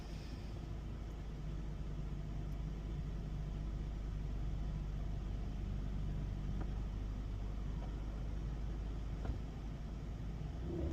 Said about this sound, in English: Oh, so much traffic.